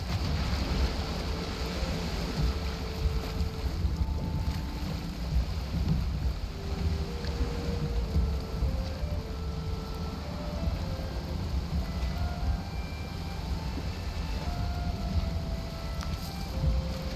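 Wooden sailing boat in the Valheim video game moving with the wind behind it, a steady rushing wash of wind and water with creaking tones and faint musical notes drifting over it, continuous throughout with no talk.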